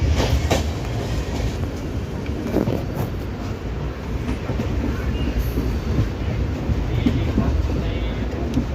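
A train between Asansol and Patna rolls steadily along the rails, with a continuous rumble and faint clickety-clack heard from on board, with no talk.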